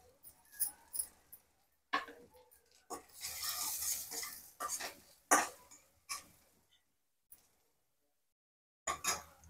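Turmeric stirred into a little oil in a pan shows up as quiet, intermittent scrapes and clinks of a spoon against metal, with a faint sizzle between the strokes and short silent gaps.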